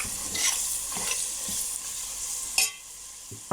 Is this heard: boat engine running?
no